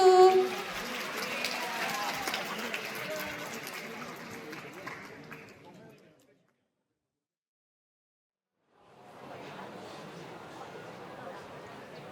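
Audience applause at a high school festival drama club performance, a dense clapping wash that fades out around six seconds, then silence, then a second burst of clapping resumes.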